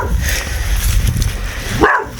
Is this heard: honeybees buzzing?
no